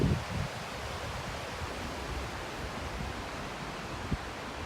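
Forney Creek in the Great Smoky Mountains rushes in a steady, broadband wash of flowing water, constant and fairly soft, with no voices.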